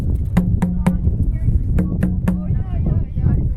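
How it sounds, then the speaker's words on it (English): Conga drum tilted back with its bottom open, struck in two quick groups of three hits, with sharper, more open and resonant tones ringing out over a low background rumble. "the next sound you hear now will be the drum tilted"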